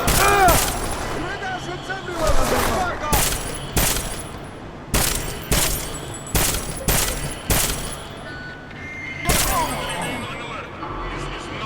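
Gunfire in a Deus Ex game: repeated loud, sharp bursts of shots crack out in an uneven rhythm over several seconds, mixed with ringing game effects and a voice speaking.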